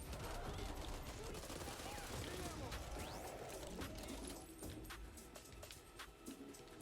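Gunfire in the video game Back 4 Blood, fired from a submachine gun, comes as dense rapid bursts over a busy layer of game noise, then thins into scattered shots near the end.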